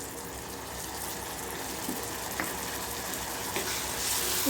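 Ginger garlic paste cooking in a pan, a steady soft sizzle running through the whole stretch with a few faint stirring clicks, fairly quiet and even, no voices.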